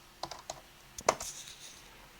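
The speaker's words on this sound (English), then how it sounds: "we will type ipconfig" Fingers tap a short command on a computer keyboard, a handful of crisp, close clicks spread over about two seconds, with a small burst of keystrokes in the middle and a quiet room behind.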